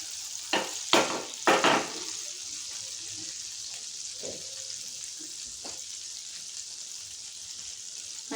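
Butter melting in a pan for butter garlic mushrooms gives a steady soft sizzle, with a few louder scraping or clattering bursts near the start, then quieter faint clicks over the continuous hiss.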